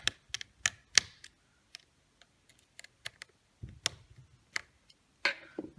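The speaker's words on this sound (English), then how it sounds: "we're taking these 2 screws out right here. So we'll go ahead and get them loosened up." Small screws being loosened from the battery of an iPhone 6 during a screen replacement: sparse, crisp tiny clicks and ticks come in uneven bursts, close and quiet, with no talking.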